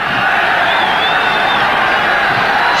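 Continuous cheering and roaring from a large stadium crowd backing Zambia against Nigeria at the 1994 African Cup of Nations, a loud, unbroken wash of voices with a single whistle-like tone rising briefly above it.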